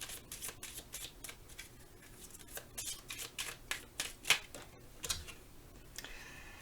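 An oracle card deck, the Romance Angels deck, is handled and cut, with quiet, rapid papery riffles and ticking card clicks close by.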